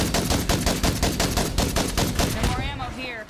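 Rapid automatic gunfire from a video game, State of Decay 2, rattles loud and steady for about two and a half seconds. A brief burst of warbling game effects follows as the shooting stops.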